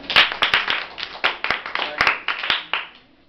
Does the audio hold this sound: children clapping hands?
yes